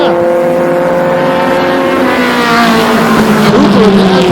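Mini stock race cars at Flamboro Speedway roar together in a loud, continuous engine drone, their pitches rising and shifting as the pack circles the oval close by.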